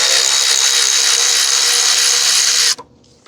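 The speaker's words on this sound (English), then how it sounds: "Loosen the hold down hardware and loosen the nut, the bolt here." Loud, continuous mechanical buzzing of a deep socket tool loosening the battery hold-down nut on a 2005 Toyota Corolla 1.8, running nonstop for most of the clip before cutting off abruptly.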